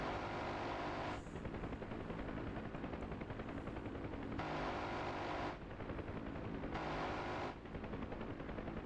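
A helicopter minigun in the DCS flight simulator rips in long continuous bursts over steady rotor and engine drone, with brief pauses between the buzzing streams of fire; no one talks.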